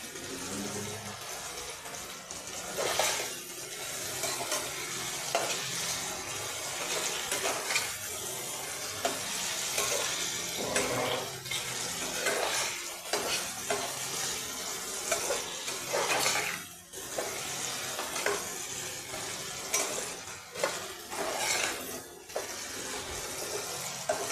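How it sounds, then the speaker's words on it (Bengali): Potatoes dusted with turmeric and salt fry in a pan while a spatula stirs them, giving a steady close sizzle broken by frequent scraping strokes throughout. "আলুটা একটু ভাজা হয়ে গেছে"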